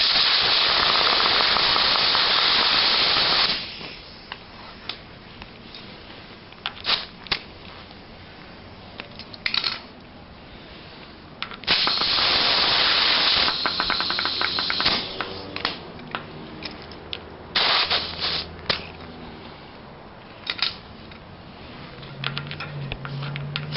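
A hand pump forces air into a bicycle tire, giving broad hissy strokes with some longer loud bursts between quieter gaps, heard close up and alone.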